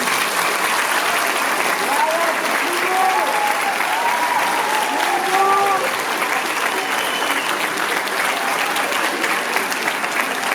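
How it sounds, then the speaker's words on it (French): Warm audience applause at a live comedy show, a long steady wash of clapping from a full room with scattered cheers and whoops rising above it. "vous pouvez m'applaudir s'il vous plaît"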